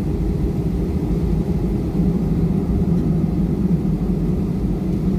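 An airliner on a Makassar to Palu flight taxiing toward the runway before takeoff, heard from inside as a steady, loud low engine rumble that holds constant throughout.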